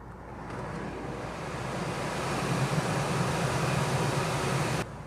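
Volvo S60 Cross Country air conditioning fan blowing inside the cabin, a steady broadband whoosh of rushing air that holds constant and then drops off abruptly near the end as the fan speed is lowered.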